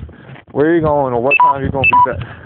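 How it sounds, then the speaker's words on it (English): A phone's low-battery alert sounds as two short, clear electronic beeps in quick succession, heard under a person talking nearby. "That's my phone telling me it's going to die here pretty soon."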